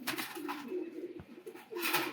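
A male and female pair of pigeons, one with a white-patterned body, coo in repeated low, throaty rolling calls close by, with a soft rustle in between.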